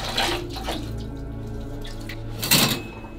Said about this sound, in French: Je ne fermerai pas les yeux sous cette douche